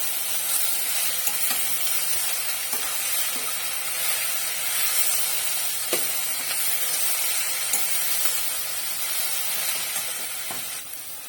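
Ingredients for mint chutney sauté in a pan with a steady sizzle and hiss, punctuated by occasional scraping stirs and clicks, close and continuous without talk.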